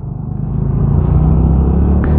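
A manual-gear motorcycle pulls away after a turn on a main road, its engine rumbling low and building steadily as it accelerates, close and continuous with no talk.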